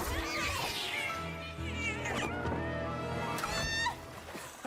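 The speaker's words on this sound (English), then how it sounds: "Why do I always get chased by cats when I come ashore?" A cat meows in the Honor of Kings video game, with drawn-out, wavering cries over a dense bed of game music and effects.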